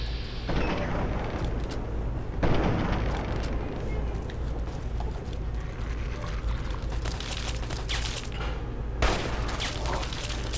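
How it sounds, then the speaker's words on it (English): Turret gunfire in the video game Fallout 3, heard as a dense, continuous barrage of rapid shots and booming impacts, loud and close, with rumbling blasts and mechanical clatter running throughout. "That turret is going to shoot at everything, so it'll shoot at the monsters too."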